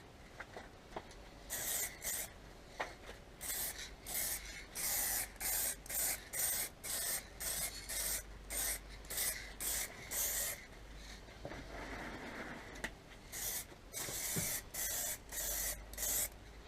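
Clear coat sprayed onto a motorcycle fairing and bellypan from a Suzuki Bandit 1200 during a respray, heard as a run of close, loud hissing spray bursts, each a second or so long, separated by short pauses, with no talking.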